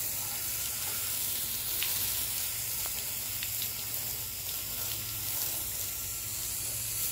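Water spraying from a hose while a roof is washed outdoors: a steady, loud broadband hiss of spray running continuously throughout with no break.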